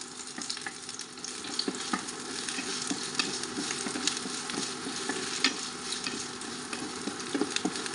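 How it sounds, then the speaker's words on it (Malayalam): Gooseberry pieces fry in hot coconut oil with a steady close sizzle, while a spoon stirs through them in scattered scraping strokes across the whole stretch. "എണ്ണ ഒന്ന് ചൂടായി വരുന്ന സമയത്ത് കഷ്ണങ്ങളാക്കി വെച്ചിരിക്കുന്ന നെല്ലിക്ക ഇതിലേക്ക് ഇട്ട് കൊടുക്കാം എന്നിട്ട് നല്ല രീതിയിൽ തന്നെ ഒന്ന് ഇളക്കി കൊടുക്കാം"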